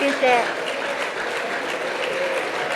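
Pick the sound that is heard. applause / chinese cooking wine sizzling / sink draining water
applause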